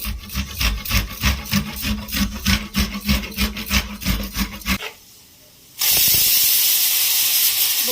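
Rhythmic scraping strokes of raw mango being grated stop, a short quiet gap follows, then a pressure cooker lets out a loud, sustained hiss of escaping steam.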